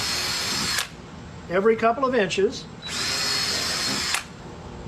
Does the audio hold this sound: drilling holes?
yes